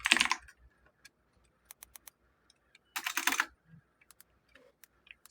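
Keys clack on a computer keyboard as text is entered into an online form, two quick bursts of rapid typing separated by sparse single clicks, close and clear with no talk.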